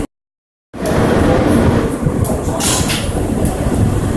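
An MTA R160 Q subway train runs on the Brighton local line in Brooklyn, giving a loud, steady rumble and rattle that starts abruptly after a brief silence and continues without talk.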